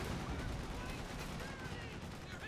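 A Stuart light tank firing in the Company of Heroes video game amid a busy battle: a steady, dense roar of continuous gunfire and explosions, moderately loud, with no clear breaks.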